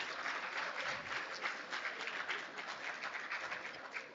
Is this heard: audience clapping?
yes